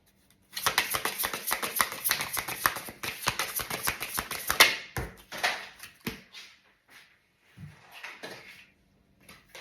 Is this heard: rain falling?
no